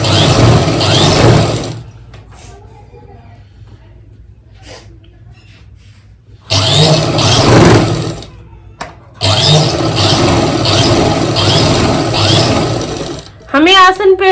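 A sewing machine stitching a seam through a garment's main fabric and lining, running in loud close bursts separated by pauses, with a brief squeaky sound at the very end.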